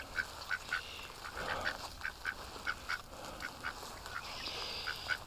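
A group of ducks eating corn snacks quacks repeatedly in a quick, fairly even rhythm, the calls close and moderately loud against steady outdoor noise.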